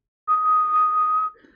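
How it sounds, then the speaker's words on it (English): A person whistles one strong, steady tone into a microphone, held clearly for about a second before it drops away, with nothing else around it. "One will be a whistle"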